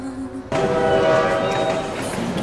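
A train runs past in a Korean drama scene, a loud sustained rumble with tonal horn-like bands that swells in abruptly and holds steady, while faint talk sits underneath.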